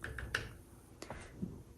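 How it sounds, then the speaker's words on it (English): A few sharp mechanical key strikes from a 1961 Smith Corona Galaxie manual typewriter, sounding as isolated close clacks with short gaps between them. "That is how you use a 1961 Smith Corona Galaxie manual typewriter"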